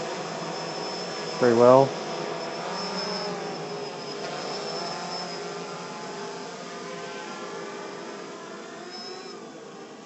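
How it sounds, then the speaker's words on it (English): A Walkera V303 Seeker quadcopter hovers in mild wind, giving a constant buzzing whir at a steady level throughout, with a short spoken phrase briefly rising over it near the start. "Quadcopter's holding this position"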